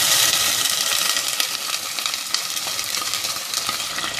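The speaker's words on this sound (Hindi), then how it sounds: "कटा हुआ, इसको हल्का सुनहरा फ्राई करेंगे।" Chopped onions sizzle and fry to light golden in a pot, with a dense continuous crackle and occasional scrapes of stirring, close and steady with no voices.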